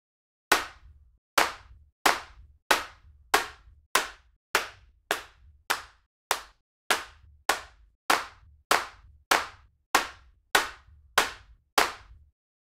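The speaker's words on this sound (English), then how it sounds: "the rack will play 15 different clap samples simultaneously" Layered clap samples stacked from an Ableton clap rack strike in a steady, even rhythm, about fifteen sharp dry hits each with a short decaying tail, close and alone with silence between.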